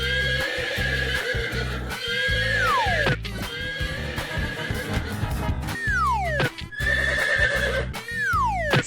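A horse in a 3D animal slide video game neighs loudly in several long, falling whinnies over a thumping, repetitive game backdrop, the calls spaced through the clip with no talk.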